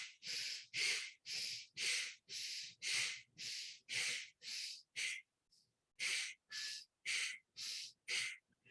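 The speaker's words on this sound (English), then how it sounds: "Inhale, pump in oxygenated air. Exhale throughout deoxygenated air." Bhastrika bellows breathing: about fifteen forceful, rapid inhale-exhale bursts in an even rhythm, close and hissy, broken by one short pause midway.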